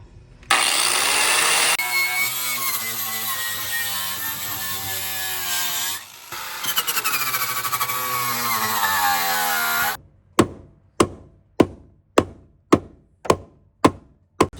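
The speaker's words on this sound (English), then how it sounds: "now I'm gonna wire wheel some of the sound deadening off so that we can weld it on both sides" A wire wheel on a power tool strips sound deadening off car body panels, a loud sustained grinding whir for several seconds that stops, then a run of short sharp evenly spaced knocks.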